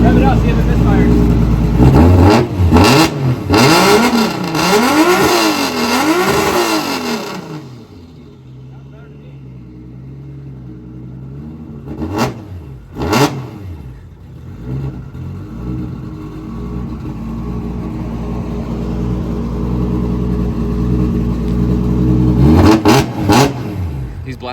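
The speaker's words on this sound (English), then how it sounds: "Rev it up, see if it misfires." A drift car's engine revs up and down in sweeping bursts at a truck stop during repairs, checking for misfires, then idles with a low rumble before a few more sharp revs; voices talk over parts of it.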